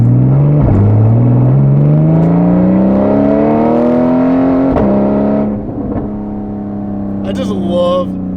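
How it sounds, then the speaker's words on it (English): Porsche sports car engine revving while driving, not yet warmed up and out of sport mode, loud and close with rising pitch through a gear, a shift near the middle, then easing off with a crackle at the end. "Ooh, just love the way this thing sounds. The engine's still kind of warming up, so I'm not in sport mode yet."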